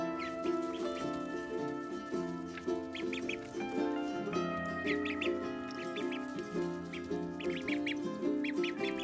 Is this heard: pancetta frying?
no